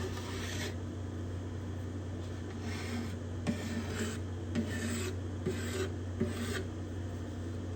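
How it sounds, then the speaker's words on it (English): Hand scraper lightly rounding over the top bindings on a spruce guitar top: a steady, close scraping rasp made of short repeated strokes over a constant low hum, with no talking. "I'm doing this lightly. The scraper does the work."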